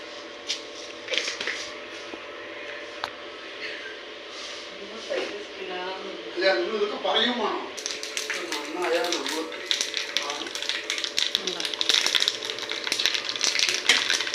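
Crackling pops of mustard seeds spluttering in hot oil, building into a dense, busy patter, with a person talking over it.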